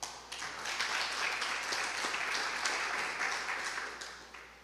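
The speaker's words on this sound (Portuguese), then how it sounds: "Aplauda o Senhor." A church congregation applauds during a Portuguese-language sermon on family, a steady, dense wash of clapping that swells, holds for several seconds and tapers off near the end, with no voices above it.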